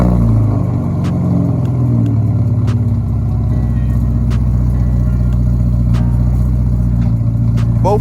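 An MK3 Volkswagen Jetta fitted with a custom exhaust starts up and settles into a loud, steady, rumbling idle with some clatter, close by and without talk.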